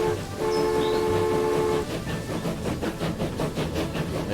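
A train rolls along the railroad in the tycoon game Transport Fever 2, opening with a sustained horn blast, then a steady rhythmic clatter of wheels on rails that carries on loud and close.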